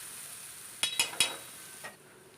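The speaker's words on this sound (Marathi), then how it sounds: "आणि ही लसूण कोथिंबीरचं कुटलेलं घालायचं आणि ही चांगलं असं तेलात भाजायचं." Crushed garlic and coriander roasting in oil on a griddle for a rustic potato dish, a soft low sizzle broken by three quick scraping strokes and one fainter stroke near the end.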